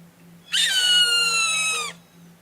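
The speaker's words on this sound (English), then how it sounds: "No, that was a bird of prey." A single loud, drawn-out screech from a bird of prey, about a second and a half long, over a faint low hum.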